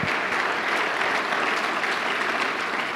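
A church congregation claps loudly and continuously, a dense even roar of many hands with no pauses, from start to finish.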